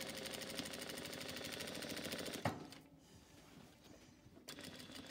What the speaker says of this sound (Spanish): Si vamos siguiendo esa línea, vamos haciendo nuestra costura recta.